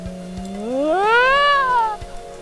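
A single drawn-out meow from a cat in the video game SimCity 4, starting low, rising into a clear tonal wail and falling off, loud and close, over a quiet game background with faint ticks.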